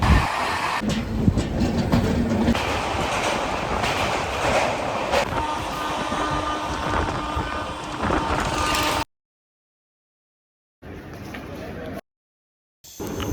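The 13181 Kolkata–Silghat Town Kaziranga Express runs on rails with a loud, steady rumble and rattle, a voice talking over it before sudden silent gaps cut the sound twice.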